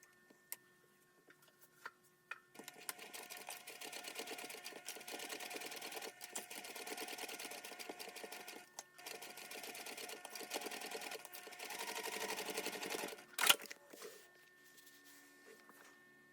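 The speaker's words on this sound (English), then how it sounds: "clip the back pocket lining to the back pocket and sew along the top edge" Sewing machine stitching a back pocket lining along its top edge, a faint steady mechanical whir running continuously for about eleven seconds, with brief dips and a small clunk near the end.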